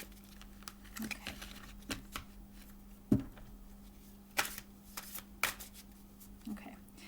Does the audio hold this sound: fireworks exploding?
no